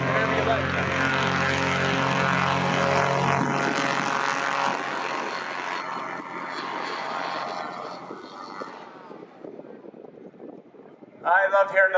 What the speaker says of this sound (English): I love hearing those aircraft wind up.